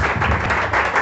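A church congregation claps during a night of praise and worship, a dense, fairly loud patter of many hands with no talk over it.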